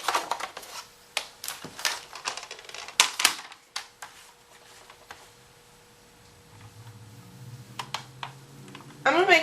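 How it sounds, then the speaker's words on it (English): A little strip of paper is torn off by hand for stamping, crisp rips and crackles in short bursts, then a quieter stretch and a final close tearing rustle. "I'm going to tear this little strip off here"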